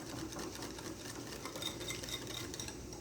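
Flour batter for a peach cobbler being whisked in a bowl, a faint, steady rapid whirring and scraping that runs continuously for a few seconds.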